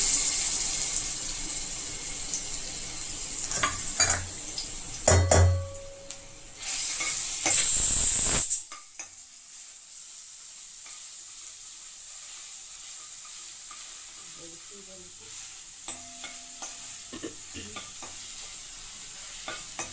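Ginger and garlic drop into a spoonful of hot oil for a mutton dish, sending up a loud close sizzle and stirring for several seconds before it abruptly drops to a faint, quiet background with sparse clinks.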